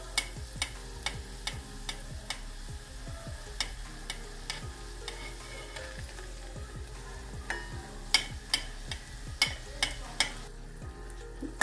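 Crispy cheese corn mini samosas frying slowly in oil on low heat, giving a continuous near sizzle broken by regular small crackles and pops, with no voices.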